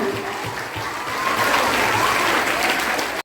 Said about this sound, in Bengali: সবাই করতালির মাধ্যমে তাকে অভিনন্দিত করো